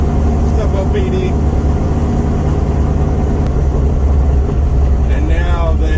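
A 640hp 1970 Dodge Charger with a 4-speed, ratty daily driver, cruising with a steady low engine drone that fills the whole stretch without breaks.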